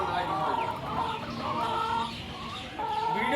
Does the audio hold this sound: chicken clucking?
yes